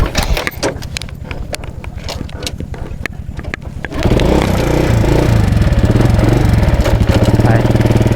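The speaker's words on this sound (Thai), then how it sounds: "รถซิงก็จะมาแล้วพี่น้องเอ้ย" A racing motorbike comes up a rough road, its engine puttering faintly at first, then suddenly loud and close with a fast rhythmic throbbing that holds steady as it runs past nearby.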